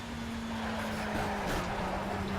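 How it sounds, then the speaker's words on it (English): Oreca 03 Nissan LMP2 race car in Project Cars at Le Mans, a steady engine drone with a tonal whine, and a brief scraping thud from bottoming out on the pavement partway through. "You can hear the car hitting the pavement because it's so low."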